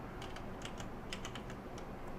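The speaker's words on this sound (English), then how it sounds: "we just start typing" Someone types on a computer keyboard in a quick, uneven patter of light clicks, close and fairly quiet, with no voices.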